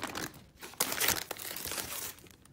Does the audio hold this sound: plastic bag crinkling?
yes